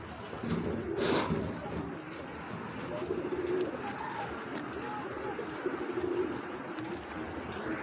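A healthy pigeon of a fancy breed coos softly in low, repeated throaty phrases close by, under a noisy room with a bright clatter early on and someone talking throughout.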